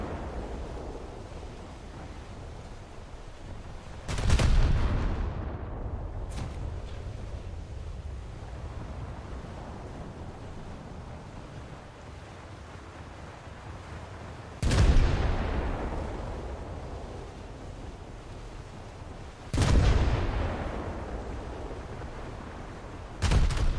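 Naval guns on an Italian warship firing in a World of Warships-style game, three or four heavy booming salvos spaced several seconds apart, each with a rumbling decay over constant wind and surf.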